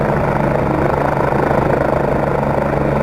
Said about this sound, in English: the ability to hold that chopper steady inside the gorge